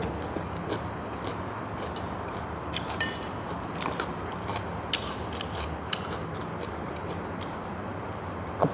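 Close, crunchy chewing of stir-fried kale with canned fish, irregular crisp crackles and wet munching, continuing steadily without talk.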